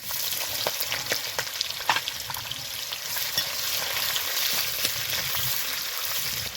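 Sliced onion fries in hot white oil already seasoned with cumin, bay leaves, cardamom, cloves and cinnamon, giving a constant hiss with intermittent spatter pops and light stirring, close and unaccompanied by speech.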